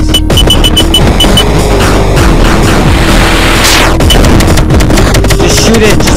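Rapid gunfire bursts and booms from the video game Destroy The Porn ring out loud and continuously alongside game music and effects, with a player's voice heard over the action.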